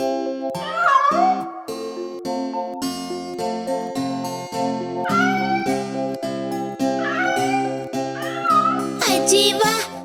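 A cat meows playfully inside a Hindi children's song, the mews rising and falling over bright, bouncy music with a sung melody, growing busier toward the end.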